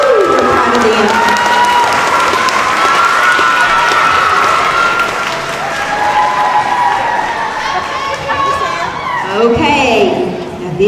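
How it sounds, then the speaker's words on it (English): Applause, cheering and excited crowd chatter fill a school award ceremony honoring elementary students, loud and continuous throughout, with shouts and voices rising over steady clapping. "Give them a big, big round of applause."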